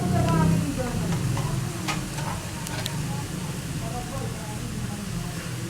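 Onions sizzle steadily in a pan while being stirred, with a soft scraping stir near the start and faint clinks, as part of cooking tawa kaleji masala; the frying hiss stays even and close throughout.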